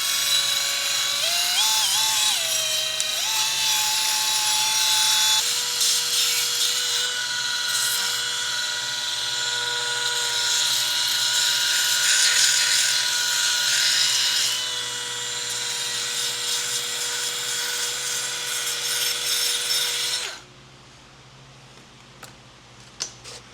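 A part for a custom-fabricated YFZ450 quad being sanded with coarse, heavy sandpaper on a power tool, making a loud high whining buzz that holds steady for about twenty seconds and then cuts off abruptly.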